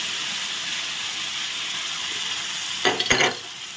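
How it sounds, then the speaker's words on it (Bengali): A spice paste of mustard, poppy seed, ginger and green chili fries in a pan with a constant hiss, broken near the end by a short burst of stirring and scraping. "এখন ভালো করে মশলাটা আমি কষিয়ে নেব।"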